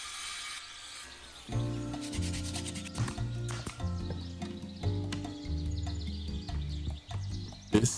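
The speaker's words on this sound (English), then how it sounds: "Cutting out the electrical boxes with my oscillating tool." An oscillating multi-tool cuts openings for electrical boxes in a newly built wall of a tiny house converted from a shed, giving a steady, close, rasping buzz with shifting tone as the blade bites and pauses briefly.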